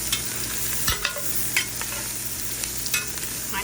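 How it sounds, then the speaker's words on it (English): Sausage browning in a pan for Cajun red beans and rice, a constant close sizzle and crackle with occasional scrapes and knocks of stirring. "first thing is you brown your sausage in your pan."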